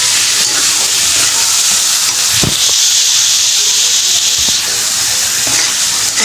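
Oil and garlic sizzling for a tempering, a steady loud hiss that runs the whole time with a few faint clicks and knocks.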